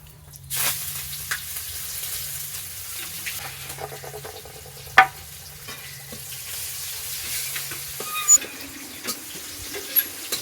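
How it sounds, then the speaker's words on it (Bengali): Chopped onion frying in hot oil with cumin seeds, two bay leaves and a chili: a steady sizzle starts after a quiet moment, with occasional stirring knocks and a brief splash of running water, no talking. "পেঁয়াজটাকে একটু ভেজে নেব"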